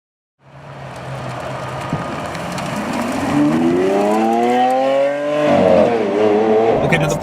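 A 2017 Lamborghini Aventador SV's engine revs hard, its rising harmonic wail climbing over several seconds, dipping briefly, then surging again, loud and close.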